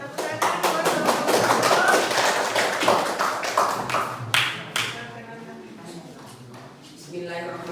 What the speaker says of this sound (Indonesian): Ya, tepuk tangan buat kelompok